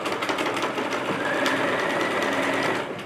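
A sewing machine stitches the side and front seams of a pair of summer shorts, running in a fast, steady, close-up whir with an even mechanical rattle throughout.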